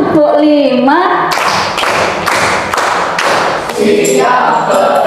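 A school class claps together in time, five sharp, loud group claps spaced about half a second apart, framed by children and a teacher chanting before and after.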